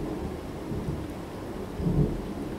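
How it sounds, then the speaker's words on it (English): Thunder from a thunderstorm outside rumbles low and steady alongside rain, swelling into a heavier roll near the end, with no voices present. "Sorry, that's thunderstorms."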